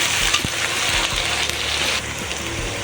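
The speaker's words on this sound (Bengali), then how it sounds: "আদা রসুনের কাঁচা গন্ধ যাওয়া পর্যন্ত ভালো করে কষিয়ে নেব।" Ginger-garlic paste sizzles loudly in a hot pan while a spoon stirs and scrapes through it, giving continuous frying hiss with occasional knocks of the utensil, close and without talk.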